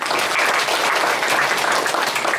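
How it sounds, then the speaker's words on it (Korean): A church congregation in Incheon, Korea breaks into warm applause during a Sunday service, a dense, steady round of clapping from many hands filling the sanctuary. "박수 한번 보내주시기 바랍니다."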